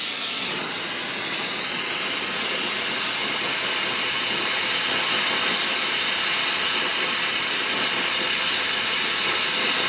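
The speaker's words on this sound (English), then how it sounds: "Okay, let's weld or braze a 3/8 fitting." An Ambro Oxyset Mobile oxy-fuel torch roars steadily while brazing a 3/8 copper fitting, a constant loud hissing rush of gas flame that holds unbroken throughout.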